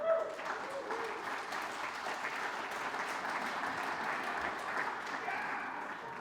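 Campaign kickoff crowd for a Brookline school committee candidate breaks into steady, moderately distant applause that holds evenly throughout, with no voices over it.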